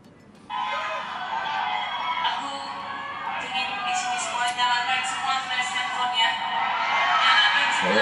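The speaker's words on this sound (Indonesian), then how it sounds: "Dengar dong penontonnya riuh semua dong." The audience at a live concert in Malaysia cheers and screams loudly. The sustained roar starts abruptly and swells slightly toward the end.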